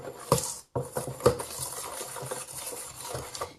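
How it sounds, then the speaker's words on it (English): A spoon stirs and clinks against a bowl while dressing is mixed, with a few sharp metallic taps up front followed by softer, steady scraping and swishing close by. "I will take a spoon, mix it in."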